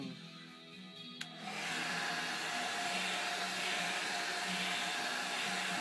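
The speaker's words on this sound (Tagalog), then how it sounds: "inuuna naman yung blower" An electric blower, likely a hair-dryer-type unit used during a tattoo session, switches on after a faint click and runs as a steady, loud broadband whoosh to the end.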